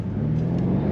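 BMW M5 Competition engine and exhaust under acceleration, a steady low droning rumble heard from inside the car, continuous and moderately loud with no talk.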